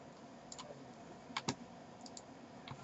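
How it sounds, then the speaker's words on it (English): A few soft key presses on a computer keyboard, including the delete key, click faintly and close by in a quiet room, with no talking. "Then on your keyboard hit delete."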